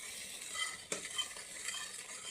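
Turmeric and chili powder fry in hot oil for a spiced vegetable dish, giving a steady close sizzle with scraping stirs and one sharp clack of a utensil against the pan.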